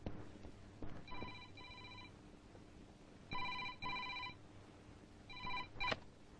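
A telephone rings in a Telugu film scene with a call from a police superintendent's office. Clear double-burst rings repeat three times at moderate volume, with no talk over them.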